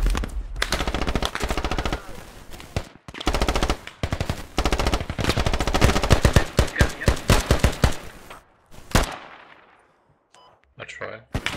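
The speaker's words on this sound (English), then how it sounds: "there are some shots getting fired from somewhere" Bursts of automatic gunfire and single shots in the Squad multiplayer war game, loud and rapid with sharp cracks and brief pauses, later thinning into scattered distant shots while voices talk over the shooting.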